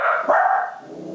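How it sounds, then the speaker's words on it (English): A dog barks in one short, loud burst close by, with no voices over it. "Oh, there goes the dog again."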